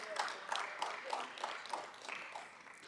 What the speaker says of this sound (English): implore on this August House to give our Premier, Dr. Popira Matoba, and MECs a deserved round of applause